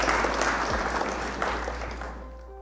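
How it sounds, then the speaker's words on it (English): Applause plays during a live stream of a Flesh and Blood trading card game match, a steady wash of clapping that gradually fades out toward the end. "Round of applause for you."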